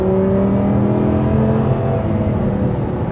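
Audi R8 LMX with its V10 engine pulling hard on the road, a loud, steady, rich mechanical drone running continuously and close up, with no talk over it.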